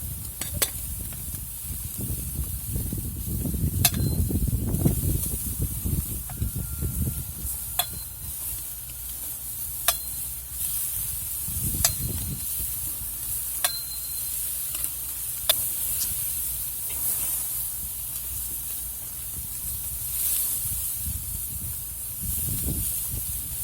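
Japanese-style cross cut ribs sizzle on a hot grill while basted with a sugary glaze that caramelizes, a constant close hiss broken by sharp crackles and pops and occasional heavier flare-ups.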